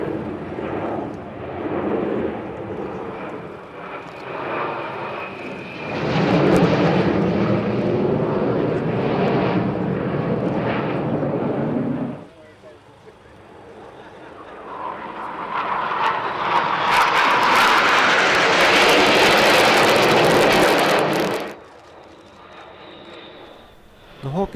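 A Finnish Air Force jet trainer of the Midnight Hawks display team roars past in two loud surges of engine noise, the second swelling higher and harsher before cutting off, with a voice talking over it.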